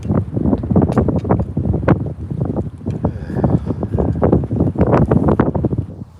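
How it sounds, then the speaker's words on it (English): Strong wind gusts batter the microphone on a boat during a night crappie fishing trip, a loud, continuous rumbling buffet with repeated bursts and no let-up. "The wind is blowing more."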